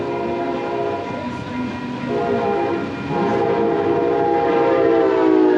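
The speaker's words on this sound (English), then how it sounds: "There goes the coaster headed north." A northbound commuter train passes close by on the tracks, its horn sounding a long, loud chord over the rumble and clatter of the cars, growing louder.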